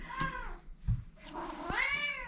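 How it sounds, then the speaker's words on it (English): A house cat meows close by, a couple of drawn-out, wavering calls with a brief pause between, clear against a quiet room during a Halloween craft project. "My daughter's cat says hello."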